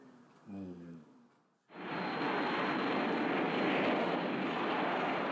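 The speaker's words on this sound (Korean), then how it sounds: "지축을 울리는 엔진음과 함께 팬텀기가 대한민국 상공에 나타났습니다" F-4 Phantom II fighter jet over South Korea: a brief voice is followed by a sudden, loud, broadband engine roar that fills the rest of the stretch, steady and close.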